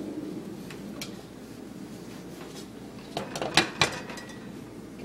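Lid set onto a cooking pot of boiling quinoa in a home kitchen, with a few sharp metallic clinks and knocks over a steady background hiss of simmering.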